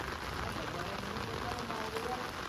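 Steady, soft rain pattering on a surface, a continuous hiss with no voices.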